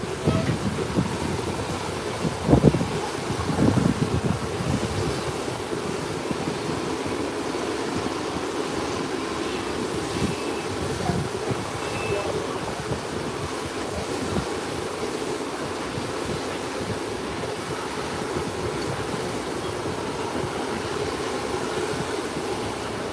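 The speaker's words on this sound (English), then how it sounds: "CRJ Bombardier, InterCaribbean airline, coming in from Havana, Cuba." An InterCaribbean Bombardier CRJ jet arriving from Havana and heading to its parking gate gives off a continuous mid-distance rumble and hiss, steady throughout with a brief bump early on.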